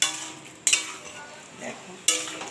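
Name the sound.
stirring and frying pointed gourd in a pan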